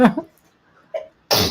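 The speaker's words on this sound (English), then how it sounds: "Anytime he sneezes" A person sneezes sharply at the start, then sneezes again a moment later after a brief quiet gap, both close and loud.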